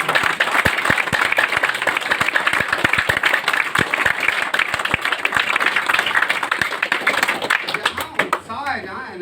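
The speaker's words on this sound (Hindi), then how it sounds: "अभी इसी क्षण जो बहुत तेजी से ताली बजाएगा, जोरदार तालियों के साथ स्वागत करेगा" A crowd at a company gathering breaks into loud, continuous applause, with dense fast clapping throughout. A voice talks over it near the end.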